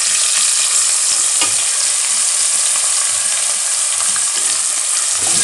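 Onions for nihari frying in hot oil until browned, a loud, steady, close crackling sizzle with occasional stirring scrapes, continuous and unbroken with no speech.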